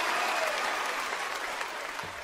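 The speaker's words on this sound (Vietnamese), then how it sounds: "Một tràng pháo tay cho Phương Nhi." A TV show audience applauds a young bolero singer, with loud, dense clapping throughout that eases slightly toward the end.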